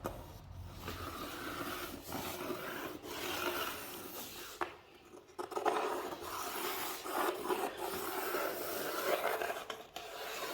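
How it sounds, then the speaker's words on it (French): A pencil traces a cutting line on a wooden board, making a continuous close scratching rub with brief pauses and slight changes in pressure. Faint room noise sits behind it. "On prend un crayon et on trace le trait de découpe."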